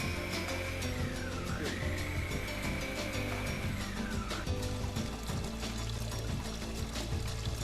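Tap water pours steadily over plastic INALSA Wonder Maxie food processor parts as they are rinsed in a sink, a loud continuous splashing with a shifting whistling tone running through it.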